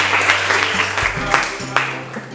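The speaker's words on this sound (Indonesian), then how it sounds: "Kita boleh tepuk tangan." A classroom of students claps together, a brief dense patter of hands filling the room with a low hum underneath.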